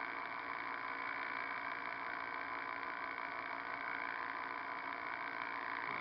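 A small pulse motor test setup runs with a steady, continuous electrical hum and whine. The tone holds fairly constant and close through the whole stretch, with no talking.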